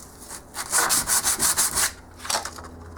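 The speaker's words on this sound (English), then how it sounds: "this is 120 grit sandpaper, or a lot finer than the last stuff I was using" A wooden guitar headstock is hand-sanded with 120 grit sandpaper in a rapid run of about eight close back-and-forth strokes, then a pause and a couple more rubs.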